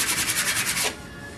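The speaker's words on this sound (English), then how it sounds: "Put a sandpaper here. Just clean up the top part, the surface." Sandpaper rubs back and forth by hand over the top surface of a 1994 Nissan Quest cylinder head, about eight quick rhythmic scraping strokes close up, then a quieter fade.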